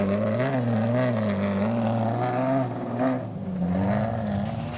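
Rally vehicles at the Sun City 400 off-road race in 2009, including a Toyota Hilux and a Nissan, roar past with sustained engine drone that rises and falls in pitch as they accelerate and shift, loud and continuous throughout.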